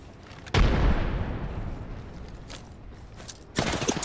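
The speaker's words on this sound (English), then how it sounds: "Tossing a grenade." A grenade explodes in a shooter video game with a sharp, heavy blast that rumbles and decays over a few seconds, followed by fainter impacts and another loud burst near the end.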